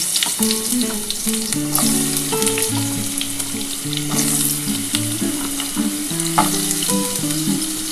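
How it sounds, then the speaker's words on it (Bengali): Potatoes frying in hot mustard oil, a loud continuous sizzle with crackles, with tonal music playing steadily underneath throughout. "আমার তেলটা গরম হয়ে গেছে আমি আলুটা দিয়ে দিলাম"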